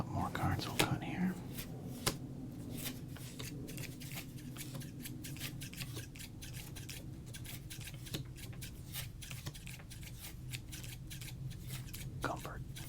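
Scissors snip through baseball card pack wrappers in a run of quiet, close, crisp cuts and soft crinkles. A hushed, whispered voice talks throughout.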